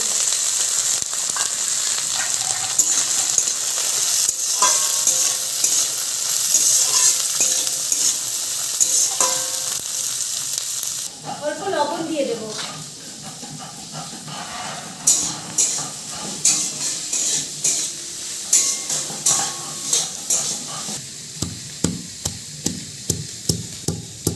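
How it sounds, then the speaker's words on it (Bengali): Capsicum, carrot, slit green chili, cashews and raisins stir-fried in a hot pan for fried rice, giving a loud, steady sizzle with scraping spatula strokes that turn into a rhythmic series of sharp knocks near the end. "এবারে দেব ক্যাপসিকাম গাজর আর কাঁচা লঙ্কা চেরা কাঁচা লঙ্কাটা তোমরা চাইলে নাও দিতে পারো কাজু আর কিশমিশটাও দিয়ে দিচ্ছি"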